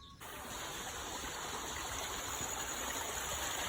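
A small stream flows nearby in a steady, continuous watery rush that starts abruptly and holds an even level throughout, with no talking.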